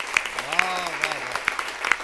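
Audience at a Hindi poetry recital breaks into sustained clapping, a dense wash of applause with sharp peaks, while a voice carries on over it.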